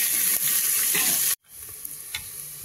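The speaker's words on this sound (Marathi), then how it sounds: "हा कांदा परतून घेऊ द्यायचा।" Onion sautéing in a pan for dal palak tadka, a loud, dense, steady sizzle that cuts out briefly and then returns slightly softer, with faint stirring scrapes.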